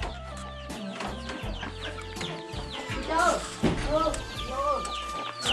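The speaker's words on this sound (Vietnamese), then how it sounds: "nhiều gà quá" Many chickens cluck and chatter inside a rural Vietnamese home, a dense, close flurry of overlapping clucks over a low hum, growing busier partway through.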